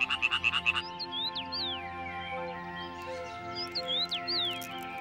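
Frogs croaking in a riverside wetland along the Salzach, a rapid burst of loud croaks up front, then birds chirping over a steady layered chorus of distant frogs.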